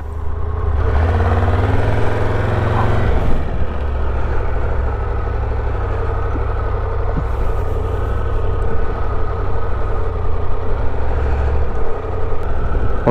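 Triumph Tiger 1200 Rally Pro motorcycle riding on an open road, with a steady, loud engine drone and rumble and wind noise throughout, briefly rising in pitch near the start.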